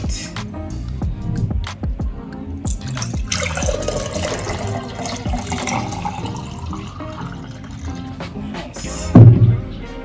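Homemade Jamaican-style fruit juice pours into a glass, a soft, continuous liquid trickle with scattered knocks and clinks in a kitchen, moderately close, with a brief louder thump near the end.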